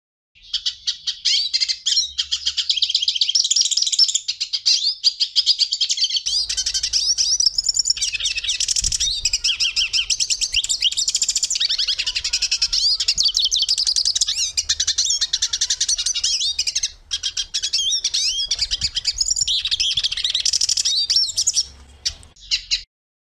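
A Brazilian songbird sings loud, close and continuous, with rapid high chirps and warbled phrases that go on almost without a break, and a brief pause near the end.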